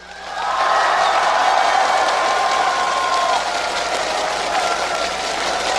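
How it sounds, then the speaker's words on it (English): A large esports crowd at a League of Legends World Championship match roars and cheers steadily for several seconds, loud and sustained, with a sweeping whistle-like tone running through the middle. "If you want CLG.EU to take this game, give them a cheer."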